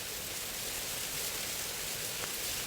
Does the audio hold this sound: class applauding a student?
no